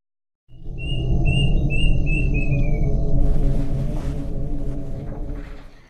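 A kedasi bird calls in a short run of repeated high chirps over a loud low rumbling background, the call fading after a few notes.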